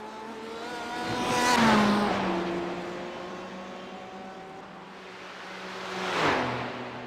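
Race cars in a Le Mans endurance race in a racing video game, including the leading number 64 Porsche, roar past loudly with engine pitch sweeping, a close pass early and another late, with steady engine drone between.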